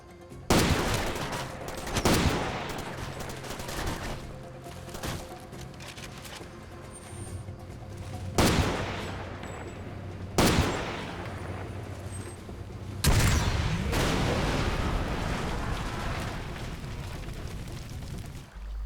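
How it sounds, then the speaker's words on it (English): Weapons in Far Cry 2 set in the African savanna and jungle, with loud bursts of automatic fire and heavy booming blasts that ring and echo between shorter quiet gaps, with no voices. "The weapons have that solid and powerful punch."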